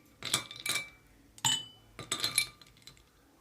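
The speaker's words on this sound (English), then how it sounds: "add a few ice cubes into a tall glass" Ice cubes clinking into a tall glass while Vietnamese iced coffee is made, with four bright clinks in two pairs, each cube hitting glass close and clear, and no talk.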